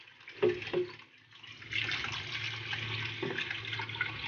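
Water runs from a tap into a pot with a steady hollow splashing after a couple of short knocks, close and fairly quiet.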